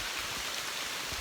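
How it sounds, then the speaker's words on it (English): Rain falls on a hiker on the Appalachian Trail, producing a soft, steady hiss with no break and no voices. "this rain will rinse the salt out of them and definitely cool me off"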